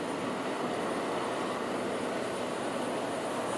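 Aircraft engine noise at a stadium event, a steady broadband roar that holds constant and fairly loud throughout, with no voices over it.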